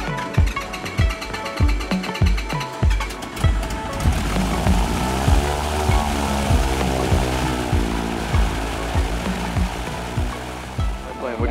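Panthera light aircraft engine while taxiing, a loud steady propeller drone with rhythmic thumping pulses at first, heard close from inside the cabin with no talk.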